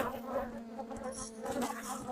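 Honey bees drone steadily around an opened beehive, a soft continuous hum with no talk.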